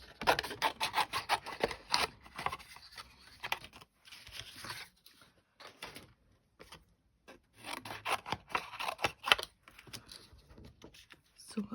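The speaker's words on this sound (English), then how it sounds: "so we'll just get fussy cutting" Scissors fussy-cut stamped paper images in close, crisp bursts of snipping and rustling, separated by short pauses, quiet and intimate with no voices.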